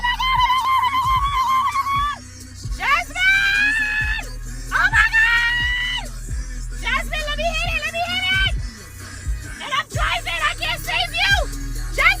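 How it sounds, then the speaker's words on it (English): A woman screams repeatedly in long, high-pitched bursts over a steady low engine hum, with brief gaps and other voices faintly in between. "My mother is just screaming."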